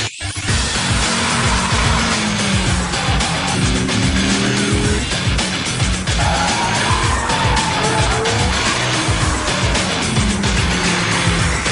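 An Audi R8 V10, a four-wheel-drive supercar closely related to the Lamborghini Gallardo, is driven hard around a circuit, its engine roaring loudly and continuously as the tires skid and squeal through corners.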